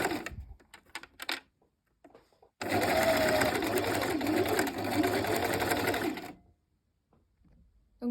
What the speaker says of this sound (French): vous piquez là où vous avez la couture du passepoil